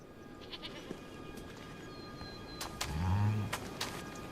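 A bighorn sheep lamb in the Montana mountains gives a short bleat midway, moderately close, among faint outdoor ambience and a few soft clicks and taps.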